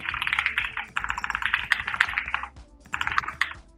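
Rapid, close typing on a computer keyboard, bursts of dense key clatter with a short pause before another flurry.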